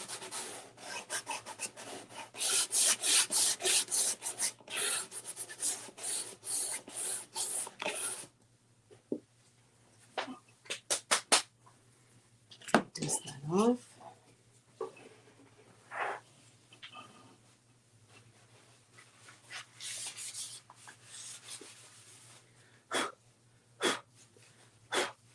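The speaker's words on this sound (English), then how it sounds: "I will sand between layers just to kind of give it like a smoothness, smooth it out. I just have a light grit on my gator sander" A light-grit Gator sander rasps across a wooden sign in steady, close scrubbing strokes for the first several seconds, then in shorter scattered bursts separated by quiet pauses.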